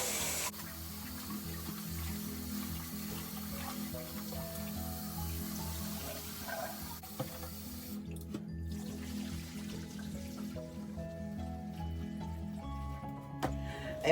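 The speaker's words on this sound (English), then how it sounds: "Now I'm going to wash my rice guys." White rice being washed under running water from a tap, a steady continuous splash and trickle close by, with faint background music and no talking.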